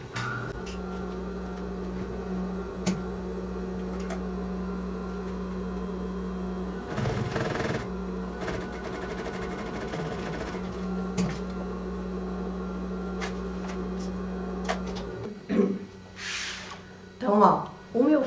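Sewing machine topstitching a pouch runs in a steady, continuous hum, breaking briefly once partway through and stopping near the end, with someone talking over it.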